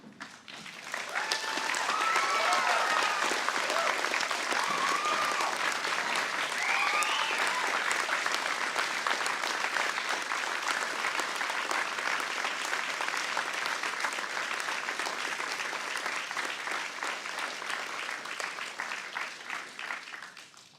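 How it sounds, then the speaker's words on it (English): Sustained, dense applause from a large gathering at a firefighter recruit graduation ceremony rises quickly and holds steady for about twenty seconds, with faint voices and whoops scattered through it. "join me in a round of applause for our graduating firefighters"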